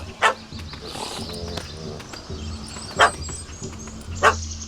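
A dog barks in The Witcher 3: Hearts of Stone, giving three sharp, loud barks spaced a second or so apart over a low, steady game hum.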